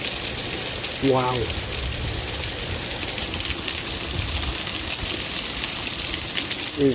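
Heavy thunderstorm rain pours in a constant dense hiss close by, with a short burst of speech early on and another at the very end.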